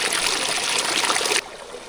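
A waterfall on the approach to Anjukudiyar village roars in a dense, steady rush of falling water up close, then drops abruptly to a quieter wash near the end.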